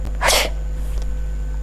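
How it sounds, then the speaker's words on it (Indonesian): A single loud, close sneeze, covered with the elbow, bursts out and fades quickly over a steady low hum, with no talking. "ada etika baru untuk bersin atau batuk"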